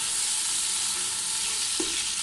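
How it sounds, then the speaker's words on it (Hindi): Ginger garlic paste sautés in hot oil in a pan, giving a dense, even sizzle that holds steady from start to finish, with one soft stir or scrape partway through and no talking. "इसमें डालेंगे अदरक लहसुन का पेस्ट। इसे भून लेंगे।"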